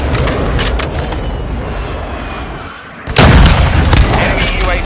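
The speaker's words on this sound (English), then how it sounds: "Enemy precision airstrike. Find cover." Enemy precision airstrike in Call of Duty Modern Warfare 2: a loud rumbling boom erupts partway through and keeps roaring after a duller stretch of battlefield noise, with a game voice speaking over the start.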